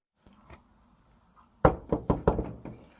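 A sharp burst of five knocks on a door lands after a near-silent pause, loud and close, with a couple of faint taps before it and no talking.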